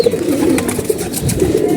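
A loft of racing pigeons, just back home after a race, coos in a steady low murmur, several birds overlapping closely with no talk.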